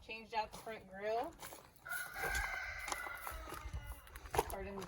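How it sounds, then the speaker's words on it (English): Chickens squawk and cluck excitedly near the microphone, with a rooster crowing in a sustained call through the middle, amid light footsteps in a yard. "Pardon the chickens going crazy."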